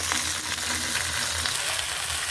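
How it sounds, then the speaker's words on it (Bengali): Mixed vegetables sizzle in hot oil in a kadai that already holds onions and green chilies, giving a dense, continuous crackling hiss at close range. "আমি দিয়ে দিলাম তেলের মধ্যে সবজিগুলা"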